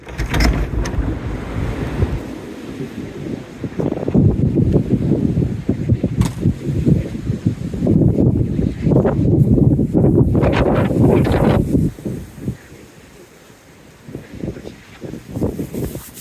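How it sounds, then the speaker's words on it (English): Strong gusting wind from Storm Isha roars and buffets the microphone at a tent, surging loud for long stretches, then easing briefly before picking up again. "it's the height of the storm"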